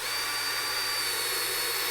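A power tool runs steadily while tightening a nylock nut with a washer on a cooling unit's gasket fitting. It gives a continuous close whirring drone with no pauses and no voices.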